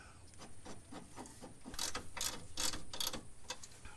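A ratchet wrench tightens a bolt on a rear lower control arm of a Honda Integra, giving a quick series of close, crisp clicking strokes that grow louder toward the middle before easing off, with no talking.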